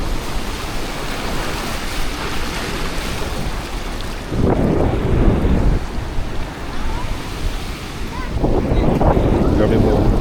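Ocean waves wash ashore on a Goa beach, a constant surf hiss with louder surges as the waves break, mixed with strong wind buffeting the microphone.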